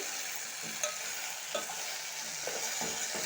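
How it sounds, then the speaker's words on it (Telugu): Onions and potatoes fry in oil for a potato tomato curry, a constant close sizzle with a few light stirring scrapes scattered through it and no voices. "మధ్య మధ్యలో కలుపుతూ ఉండాలి"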